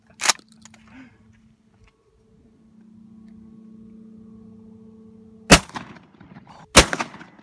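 Guns are fired by a first-time shooter, producing three sharp, loud shots spaced well apart, with a low steady hum between the later two.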